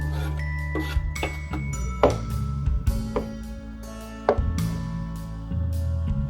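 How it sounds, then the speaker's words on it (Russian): A knife rapidly chops a bunch of fresh dill and green onion on a cutting board, irregular taps close up over a steady low hum, with no talking. "Шинкую пучок зелени"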